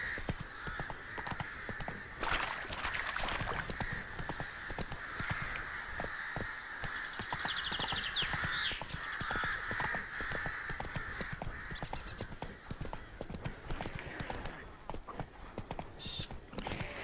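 Roach the horse trotting in the video game The Witcher 3, steady clip-clopping hooves throughout with crows cawing in the background.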